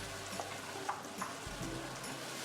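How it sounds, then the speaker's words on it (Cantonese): Onion, shallot and garlic fry in leftover oil in a pan, giving a faint, soft sizzle with a few light clicks and stirring taps over a couple of seconds, no voices. "喺個鍋入邊用剩低嘅油將洋葱、紅葱頭、蒜蓉爆香"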